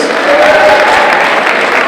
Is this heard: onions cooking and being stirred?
no